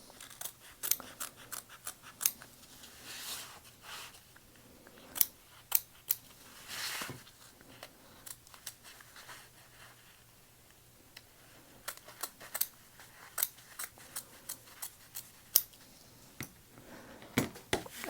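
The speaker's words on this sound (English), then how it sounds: "make small snips so that you don't accidentally catch your zipper overlay and cut that as well" Scissors make small snips in fabric lining beside a zipper, a scattered series of short, crisp cuts in irregular bursts, close and quiet with brief pauses between them.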